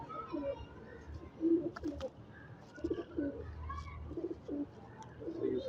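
Soft, low cooing phrases from a pigeon repeat every second or so, close by, with faint chirps and background activity in between.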